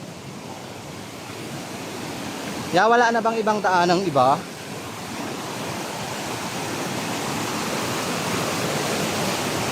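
Strong water rushes loudly and continuously beneath a crossing during Typhoon Uwan in Mindoro, a broad roaring wash that stays constant, with a voice briefly speaking over it.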